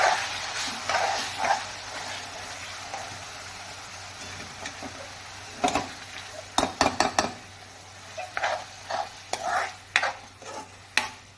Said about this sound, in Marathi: ते व्यवस्थित आपण तेलावर परतून घेणार आहोत